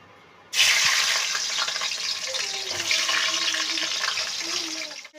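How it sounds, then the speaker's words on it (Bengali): Hilsa fish heads drop into hot oil and set off a loud, steady sizzle that carries on close by through the rest of the moment. "তেল গরম হয়ে গেছে আমি এবার মাছের মুড়োগুলো দিয়ে দিচ্ছি"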